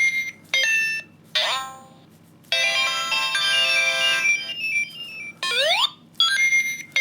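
A Sonic the Hedgehog talking plush toy plays electronic game sound effects: bright chiming tones, rising and falling sweeps and short bursts, clear and close, separated by brief gaps.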